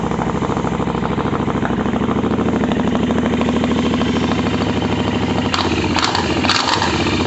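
A Royal Enfield Interceptor motorcycle fitted with a cheap eBay aftermarket exhaust runs with a deep, throaty rumble. The loud, steady drone is close by, and sharper bursts of revving come near the end.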